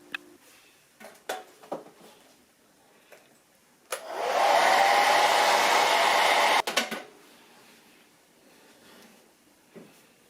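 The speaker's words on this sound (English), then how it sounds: "you can go ahead and use a blow dryer to blow the weft so it's dry faster and stick faster" A blow dryer runs steadily for about three seconds, drying freshly glued weft on a short blonde wig, with a broad even hiss starting and stopping abruptly amid quieter handling sounds.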